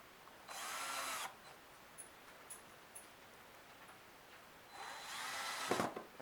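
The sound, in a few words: power drill pre-drilling holes in wood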